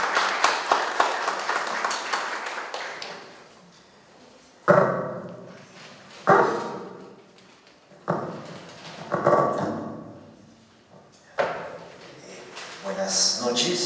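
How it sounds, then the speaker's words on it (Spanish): At an evening legal conference, the audience breaks into dense applause to welcome a speaker. The clapping is a busy wash for the first few seconds and then gives way to sparser, separated bursts and room sounds. "Le damos la bienvenida al doctor Luis Sáenz Dávalos con fuertes aplausos"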